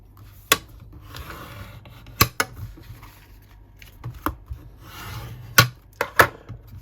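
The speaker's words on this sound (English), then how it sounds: "give it a good burnish." Paper on a stamped vintage-style notebook is burnished, with close, brisk rubbing and scraping strokes broken by several sharp taps and clicks.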